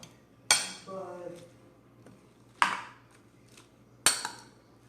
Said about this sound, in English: I'm going to take my spoon and I'm kind of mashing in this